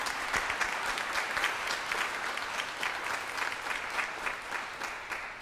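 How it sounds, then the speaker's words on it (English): A church congregation joins in a round of applause to welcome new members to the table, many hands clapping in a moderately loud, even patter that continues throughout. "let's join together in a round of applause to welcome them to the"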